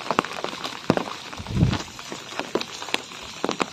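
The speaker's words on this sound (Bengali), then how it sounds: "চারপাশে বিলের পানি দেখতে পাচ্ছেন, এবং বৃষ্টি পড়ছে" Rain patters on the water of Sonakanta beel, a lotus wetland in Ullapara, Sirajganj, a close, irregular spatter of drops with a brief low rumble in the middle and no talking.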